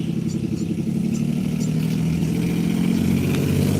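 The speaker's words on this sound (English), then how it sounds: "y'all hear this car?" Loud car engine rumbling close outside, a steady low growl that swells toward the end as it passes, with faint clatter and no speech.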